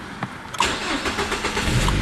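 A Peugeot 406 coupé engine cranks and catches, then settles into a steady running rumble.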